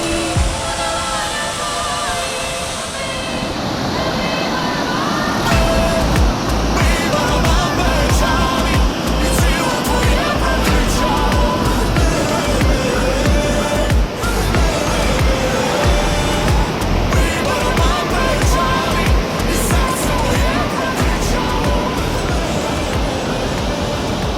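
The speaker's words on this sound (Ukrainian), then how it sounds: "а це ще шикарніший водоспад." A waterfall in the Carpathian mountains, a loud steady rushing roar of falling water that swells in after a few seconds and continues unbroken.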